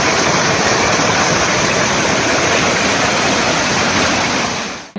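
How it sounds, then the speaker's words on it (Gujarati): Small streams and waterfalls spill over check dams in a monsoon forest after heavy rain, a loud, continuous roaring rush of water that cuts off abruptly at the end. "ચેકડેમ સાથે નાના ઝરણા અને ધોધ વહેતા થતા"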